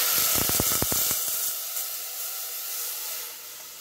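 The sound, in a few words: curd and gram flour mix poured into hot tempering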